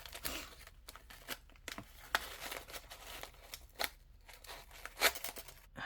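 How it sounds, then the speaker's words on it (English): A paper-wrapped letter package is torn open and unwrapped, with faint, close crinkling and several sharp rips of paper coming in irregular bursts. "So then let's unwrap this."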